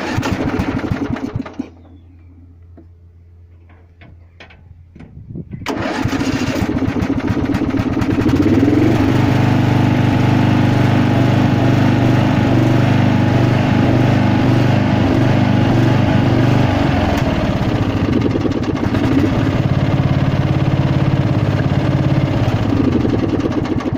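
A small petrol engine running on diesel, on choke, runs loudly, cuts out briefly to near silence, then restarts and settles into a steady, buzzing drone that continues unbroken.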